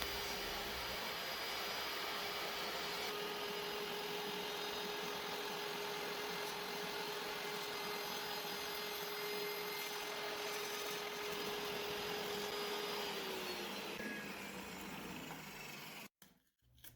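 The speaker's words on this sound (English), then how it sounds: "I need to cut through the back of the insert plate so that there's space for the riving knife if I put that in" A table saw blade cuts through a zero clearance insert plate in a woodworking shop, a steady loud whining roar with a tonal hum that holds for about fourteen seconds, then winds down and stops abruptly near the end.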